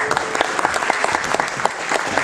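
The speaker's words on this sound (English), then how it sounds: "Give him a round of applause for joining." A meeting audience of an astronomy society claps for a new member, brisk applause from a room of people, fairly close and steady for a couple of seconds.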